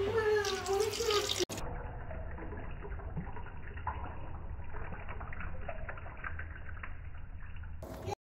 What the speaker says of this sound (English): Now we add in the water